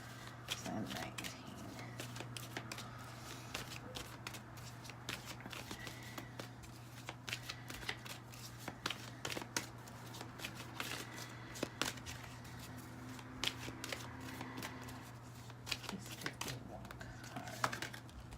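Tarot cards being shuffled and handled during a reading: a faint, continuous run of soft riffling and flicking taps over a steady low hum, recorded close and quiet.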